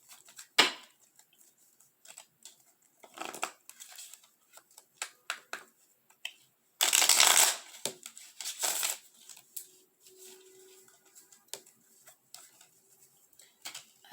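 Tarot cards shuffled by hand, giving scattered soft riffling and tapping bursts with one louder, longer riffle in the middle; close and fairly quiet, with no talking.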